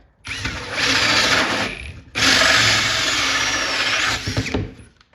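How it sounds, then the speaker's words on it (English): Power drill with a hole saw cutting through a panel for a multicade cabinet build: two sustained loud grinding bursts, close by, separated by a brief pause, with scraping at the end and no talk. "And then we can finish drilling that out"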